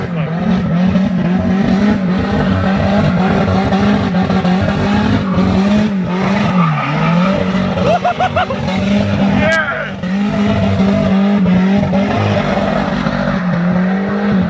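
Tuned Ram 2500 pickup truck making about 500 wheel horsepower, roaring loudly and continuously at a race night, with engine drone rising and falling while people talk over it.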